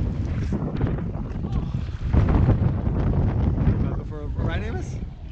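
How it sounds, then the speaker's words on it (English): Strong wind at Lake Powell buffets the microphone in loud, continuous gusts, with people talking over it throughout. "It's very windy."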